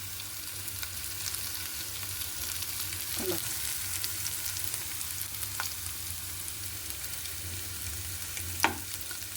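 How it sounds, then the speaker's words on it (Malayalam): Anchovies frying with onions in a pan give off a quiet, steady sizzle, with a few soft stirring clicks and scrapes along the way. "അങ്ങനെ ഒരു അടിപൊളി നൊട്ടോലി ഫ്രൈ ഇവിടെ ഇങ്ങനെ റെഡി ആയിക്കൊണ്ടിരിക്കുവാണ്"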